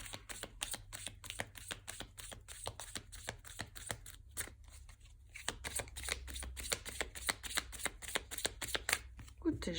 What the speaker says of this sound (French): on va tirer une petite carte du Line of Love pour en savoir plus